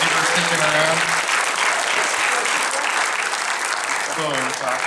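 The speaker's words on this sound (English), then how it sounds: "Round of applause for our filmmakers." An audience at a horror film festival Q&A gives a round of applause for the filmmakers, a thick continuous clapping with a voice speaking over it at the start and end.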